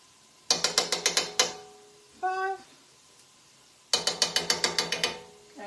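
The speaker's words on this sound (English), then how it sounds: "You can use these adjustable measuring spoons." Adjustable measuring spoons clicking as their sliders are set while making a roux for Gouda cheddar soup: two quick runs of about six sharp ratcheting clicks each, close and crisp, separated by a brief higher-pitched squeak.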